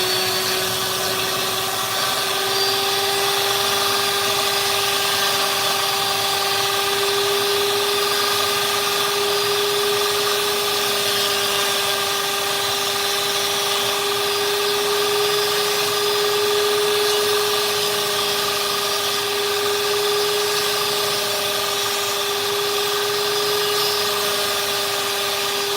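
A flex shaft rotary tool fitted with a burr carves a wooden cardinal, giving a steady, loud, high-pitched whine that holds one even tone throughout with no speech.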